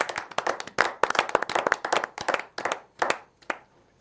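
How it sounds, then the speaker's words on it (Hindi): A small audience at a Holi poetry gathering claps for the poet Poonam: crisp, close claps in a quick, fairly steady run that thins out and stops near the end. "एक बार हम बजाते हैं पूनम जी के लिए तालियां"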